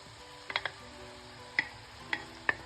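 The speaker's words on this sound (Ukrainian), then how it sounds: "Продовжуємо помішувати, смажимо до м'якості моркви." Grated carrot and diced onion fry in a pan, a faint steady sizzle broken by a few sharp clicks and scrapes of a spatula stirring, quiet and close.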